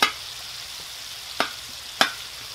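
Chorizo, bacon and sausage frying in hot fat on a plow disc, a steady sizzle punctuated by three sharp spatula scrapes or stirring clacks.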